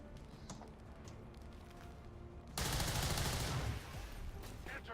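A ballistic weapon fires in the video game XCOM 2 on a missed shot, one loud burst of gunfire lasting about a second that stands out against a quiet background hum.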